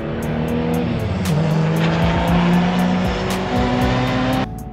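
A race car locks its brakes at the Laguna Seca corkscrew, producing a sustained tire squeal over a loud engine drone, heard from trackside with shifting pitch and a brief skid before the noise cuts back.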